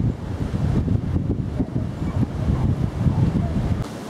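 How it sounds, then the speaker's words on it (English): Strong gusty wind buffets the microphone in continuous rumbling bursts on a muddy countryside walk near Wye, loud and close, with no voices. "Very windy today."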